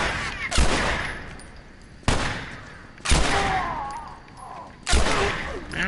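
Gunfire in The Last of Us Part I video game: four loud, sharp gunshots spaced about a second or more apart, each ringing out with a long decaying reverberant tail. No one speaks.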